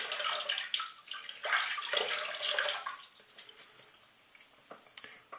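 Tap water runs and splashes at a bathroom sink while a face is wetted before a no-prep shave, a busy close splashing for about three seconds that then thins to scattered drips and trickles.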